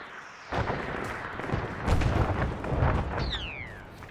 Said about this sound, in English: Frag out northeast.